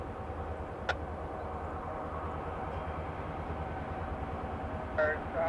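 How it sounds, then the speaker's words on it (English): A local freight train of seven cars and a lone Jeep rolls past trackside as a steady, continuous low rumble and wheel noise, with a brief sharp clank near the start and a short squeal toward the end. "It's not too long until a train shows itself. It's a local made up of 7 cars"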